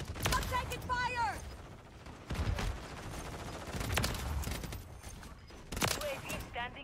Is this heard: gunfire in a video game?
yes